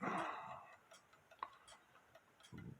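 A dropped cuckoo clock under repair ticks faintly and close by, giving a few soft, irregular clicks among quiet handling noises.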